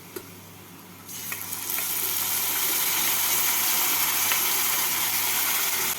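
Spice paste hits reddened fried onions in a pan for kaju katla fish curry, and after a second of quieter hiss a loud, steady, broadband sizzle takes over and holds close and continuous.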